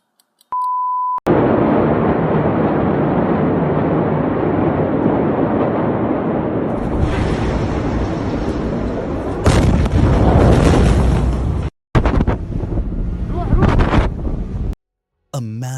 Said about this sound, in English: a massive explosion ripped through the port